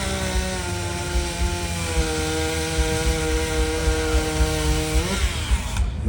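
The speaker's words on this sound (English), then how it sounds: "Now he's pretty fast with the chainsaw." A chainsaw roars steadily at close range while cutting a log at the South Carolina State Fair, its engine pitch holding high under load, then dropping sharply near the end as the cut finishes.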